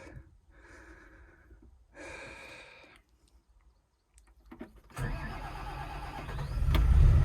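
A digger's diesel engine cranking in a few labored bursts with pauses, then catching and running as a loud, close rumble that builds toward the end.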